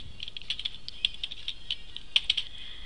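Typing on a computer keyboard, a quick irregular run of light key clicks close by with a couple of brief pauses, alone without speech.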